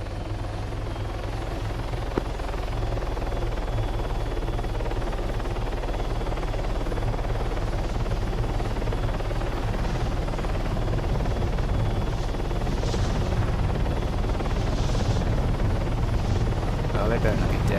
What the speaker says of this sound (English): I'm spooling up and make my way over.